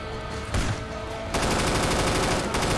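Rapid automatic gunfire fired at the Tank in Left 4 Dead 2, a short burst followed by a sustained, loud stream of shots from close range.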